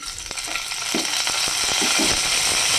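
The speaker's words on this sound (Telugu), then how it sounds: "జీలకర్ర, కొద్దిగా ఆవాలు, కొద్దిగా కరివేపాకు వేసి కొద్దిగా ఫ్రై చేసుకోవాలి" Cumin, mustard seeds and curry leaves fry in hot oil with a steady close sizzle, broken by small pops and spatters and brief stirring scrapes.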